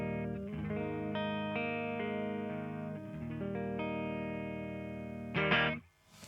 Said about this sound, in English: let's hear the clean tone